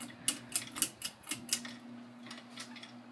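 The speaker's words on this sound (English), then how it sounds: "That's drywall that had fallen down and managed to get into one of the motor vents of the thing. It kicks around in there every now and then." Small loose chunks of drywall rattle and tick inside the motor vent of a 2000 Heritage Fernaux 42-inch ceiling fan running on high, sounding as a series of sharp clicks over a steady low motor hum, then fading to sparse taps.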